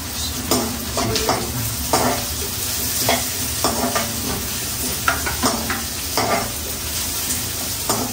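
Vegetables with red capsicum and carrot stir-frying in a pan for chicken noodles, with loud close sizzling and frequent rhythmic scraping of a spatula throughout, no voices.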